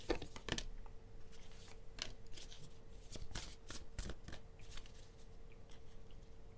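Tarot deck being shuffled and cards drawn: soft repeated riffling and sharp card snaps in irregular bursts, close and quiet, over a faint steady hum. No talking.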